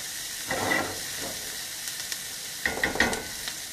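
Lamb and vegetables sizzle in an oiled pan, a soft, steady frying hiss with a few sharper crackles and utensil clinks near the start and in a cluster toward the end.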